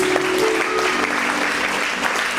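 Congregation applauding during a church service, dense steady clapping from many hands filling the space, with faint voices mixed in.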